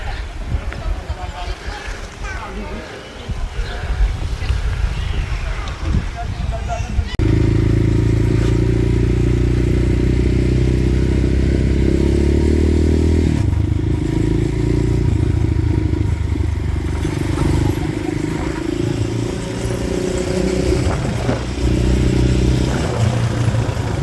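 A motorcycle engine drones loudly and steadily throughout, close by on a trail ride from Nakar, Quezon to Umiray, Aurora, with voices and rushing noise mixed in.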